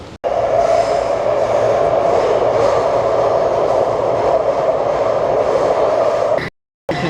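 A Taipei metro train runs with a loud, steady close rumble and hum that holds almost unbroken, cutting briefly to silence near the end.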